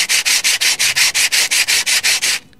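Sandpaper of 120 grit is rubbed back and forth in about a dozen quick, even strokes, each one a close, loud scratchy rasp, during maintenance of a Mazda Roadster handbrake part.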